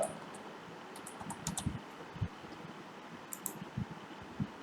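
Keys clack on a computer keyboard in uneven bursts of quiet typing at close range, with short pauses between clusters over a soft fan-like background hum.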